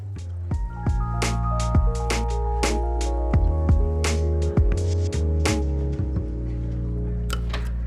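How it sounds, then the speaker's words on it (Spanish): Seagram's tonic water is poured into a glass, giving a close series of drips, plops and splashes over a steady background hum, with no talking. "nos vamos a poner una agradable y burbujeante Seagrams tónica"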